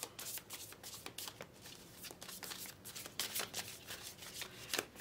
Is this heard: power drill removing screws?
no